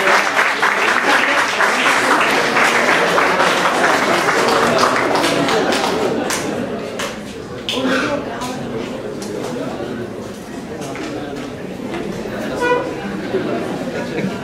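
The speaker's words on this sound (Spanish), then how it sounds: "vamos a ver que más un fuerte aplauso para que pase el profesor Omar Jiménez" Loud, dense applause from an audience at a San Marcos university (UNMSM) film event greets a professor coming forward. It holds steady for about six seconds, then thins into lighter clapping mixed with crowd murmur.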